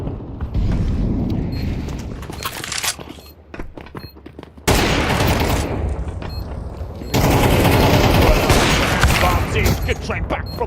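Rapid gunfire from the video game Counter-Strike, including AWP rifle shots, during an esports match: dense bursts of shots that cut out abruptly and return louder, under excited commentators' voices.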